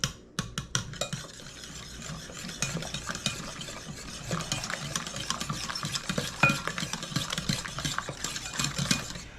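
A spoon stirs an oats mixture made from food-storage ingredients, scraping and clinking against the bowl in a close, continuous rhythm that lasts throughout, with no voices.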